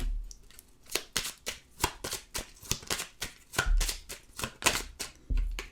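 Tarot cards are shuffled and flicked close up in a steady run of crisp riffling snaps, with no talking.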